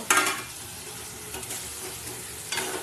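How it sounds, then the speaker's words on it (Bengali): Egg curry stirred and fried in a pan gives a close, continuous sizzle with sharper spatula-and-pan bursts at the start and near the end, no voices. "ভালো করে নেড়ে ছেড়ে ডিমের কারিটা কষিয়ে নেবো"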